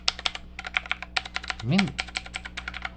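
Rapid, clacky keystrokes on a Rapoo V500 Pro full-size budget wired mechanical keyboard come in quick uneven bursts, close up. Someone speaks briefly partway through.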